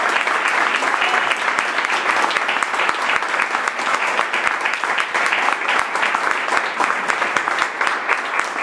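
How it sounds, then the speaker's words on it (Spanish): A church congregation applauds during a Spanish-language sermon, with dense, steady clapping filling the room for several seconds without pause. "Denle un aplauso al Señor"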